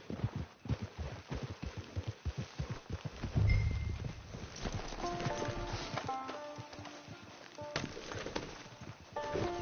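Horse hooves clip-clopping at a steady walking pace in a PS4 video game, close and rhythmic, giving way to a softer, busier game ambience.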